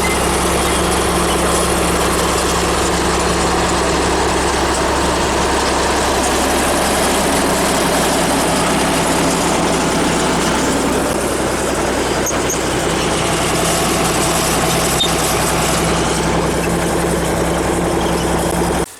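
A heavy tractor engine on a demining machine drones steadily and loudly throughout, a constant low rumble with no voices.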